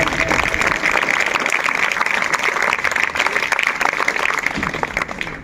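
Many schoolchildren do a scout clap together, and the crowded, sustained clapping runs evenly for several seconds at a steady, fairly loud level.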